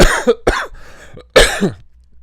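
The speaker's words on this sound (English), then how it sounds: "I'm going to have a cough again." Three or four harsh coughs in quick succession, close and fairly loud, with a breathy pause between bursts.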